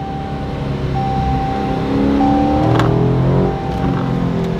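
A 500 hp Dodge Charger SRT 392 accelerates hard, its engine note climbing, then dropping as it downshifts and climbing again: a loud, steady, close V8 roar with no talking.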